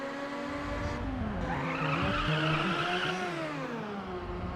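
Race car engine in the racing video game Ridge Racer Type 4, a steady high whine that climbs and shifts pitch with gear changes, overlaid by screeching tire squeal, loud and continuous.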